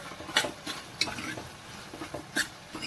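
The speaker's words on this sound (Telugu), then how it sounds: "ఇప్పుడు వీటిని కొంచెం శుభ్రంగా కలిపేసుకుందాం." Salt gets stirred into chukkakura pulusu ingredients with a few sharp utensil scrapes and clinks against the pot, spaced irregularly over a faint background sizzle.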